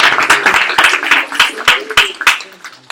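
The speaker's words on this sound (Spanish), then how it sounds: "Aplaudimos. Sí, se lo merece." A small group claps for a speaker in a classroom-like setting, a sparse run of separate hand claps with uneven rhythm, close and fairly loud, with some voices mixed in.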